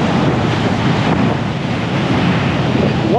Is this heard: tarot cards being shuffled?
no